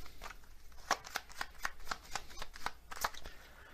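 Kipper fortune-telling cards are shuffled and drawn by hand, a close, quick run of crisp riffling flicks and slaps that keeps going for a few seconds with no voice.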